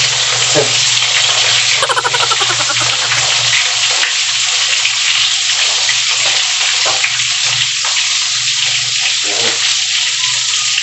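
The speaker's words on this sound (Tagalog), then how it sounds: "So shoutout nga pala sa mantika na na namimitik." Cooking oil spattering while frying makes a loud, dense, continuous sizzle with scattered sharp pops, close up. A brief voice briefly rises over it near the start.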